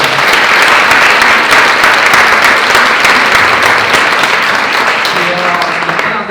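Audience applause filling a hall after a panel debate on employment contract law, dense and steady throughout with a few voices murmuring underneath.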